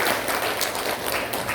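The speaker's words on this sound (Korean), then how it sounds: "박수 한번 주시면 감사하겠습니다" An audience applauds at a company success-story gathering, a dense, even patter of many hands that carries on steadily at moderate loudness without talk over it.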